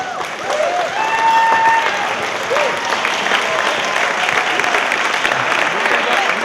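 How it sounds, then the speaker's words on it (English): Wedding guests break into warm, sustained applause for the couple after a toast, a dense wash of clapping from a crowded room with a few cheers and voices mixed in throughout. "Let's give them a big round of applause"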